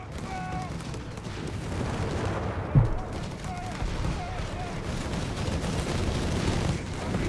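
Artillery and gunfire in Company of Heroes 3 thud and crackle through a busy battle mix, with one sharp, loud blast standing out amid steady distant firing.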